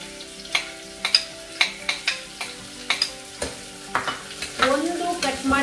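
Garam masala sizzling in hot oil in a pan, a steady crackle broken by repeated sharp clinks of a spoon stirring, with the frying swelling louder near the end; close and without speech.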